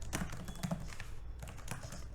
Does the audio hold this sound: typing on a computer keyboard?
yes